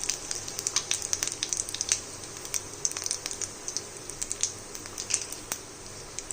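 Whole cumin seeds and asafoetida hit hot oil in a pan, sending up a crackling sizzle of rapid, irregular pops and spits, fairly close and steady throughout.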